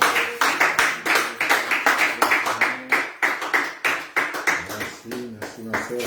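Church congregation clapping in a steady rhythmic beat, loud and close, with voices cheering and calling out under the claps throughout.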